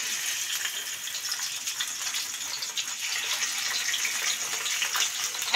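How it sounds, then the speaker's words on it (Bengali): Pabda fish fry in hot mustard oil in a nonstick pan, giving a steady, close crackling hiss with fine spitting pops and no pauses. "মাছটা আমি দিয়ে দিচ্ছি, তেলটা গরম হয়ে গেছে।"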